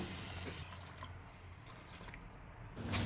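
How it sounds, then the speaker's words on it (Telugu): Water is poured into a pot of fried toor dal with curry leaves, making soft splashing, dripping and filling sounds at close range that swell again near the end. "1 కప్పు కందిపప్పుకు 4 కప్పుల నీళ్లు పోయాలి."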